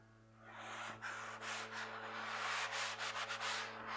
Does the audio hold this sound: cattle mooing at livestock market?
no